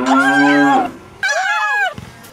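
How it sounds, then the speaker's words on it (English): A cow moos twice, loud and close, on a desert road, a long drawn-out low call followed by a second rising and falling moo after a brief pause. "Buck doesn't see Tuck the cow standing in the road."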